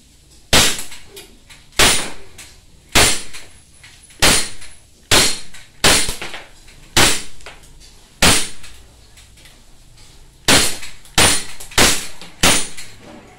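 A gas-powered Glock 17 airsoft pistol fires semi-automatically at a target, with about fourteen sharp, loud cracks in an irregular rhythm, each followed by a brief clatter, with quiet gaps and no talk.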